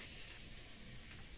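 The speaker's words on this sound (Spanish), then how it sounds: "Así suena la sartén" A short, continuous sizzle of eggs frying in hot oil in a pan, heard close and steady with no voices.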